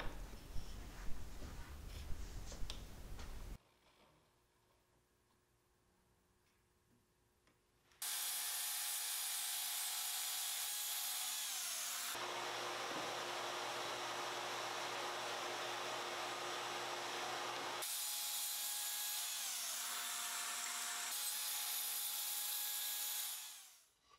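A power saw cutting plywood parts for a storage bench, with bursts of loud sustained whining and cutting separated by quiet gaps and a brief start of handling noise, close by and without talk.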